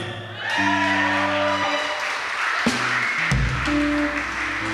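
A crowd applauds and cheers with scattered shouts, a steady wash of clapping over low sustained musical tones.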